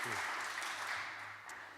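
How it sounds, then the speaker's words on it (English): Applause at a church annual parochial meeting, a soft, distant patter of scattered clapping that fades quickly, heard faintly in a quiet hall. "Round of applause."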